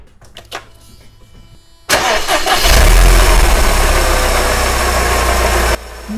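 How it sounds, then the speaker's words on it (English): A Mercedes M111 engine cranks and fires up after the car has sat for weeks, settling into a loud, steady idle close by, checked for a startup rattle. "Time to find out if this oil had any impact on the startup rattle."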